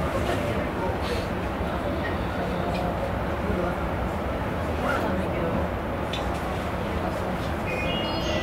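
Steady rumbling train noise fills a station as a JR Saikyo Line local train for Omiya gets underway, a dense continuous roar, with a voice speaking over it.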